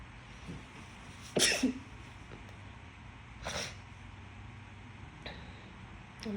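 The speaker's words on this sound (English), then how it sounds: "I'm gonna sneeze again" One sharp, close sneeze bursts out early, followed a couple of seconds later by a softer second sneeze or snort and a faint sniff, set against quiet room hiss without talking.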